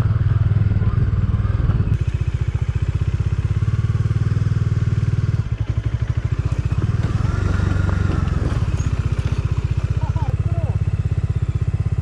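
A motorcycle rides off-road on a hill trail at Gavi Betta near Sakleshpur. The engine throbs continuously and rises and falls as the rider works the throttle, with voices talking over it.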